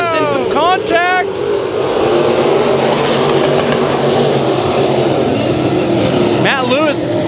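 Race cars roaring around Bakersfield Speedway during a heat race, a loud continuous engine drone with revving engines sweeping past, under steady announcer commentary.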